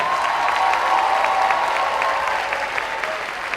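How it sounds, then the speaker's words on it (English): A theater audience at a seniors talent show applauds for the contestants, a continuous wash of clapping with some cheering that eases slightly toward the end. "one big round of applause, as loud as you can get, for all of our contestants this evening"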